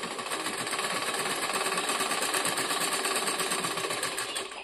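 A sewing machine hems the side edges of a bag made from a woven sack, running in a steady, loud, close mechanical chatter without pause and with no voices.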